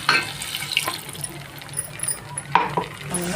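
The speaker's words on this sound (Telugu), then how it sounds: "దీంట్లో కొద్దిగా వాటర్ వేసుకున్నాము." Water splashes into a cooking pot already holding chili powder, spices, cardamom and dry coconut powder, with a few metallic clinks and knocks as it goes in.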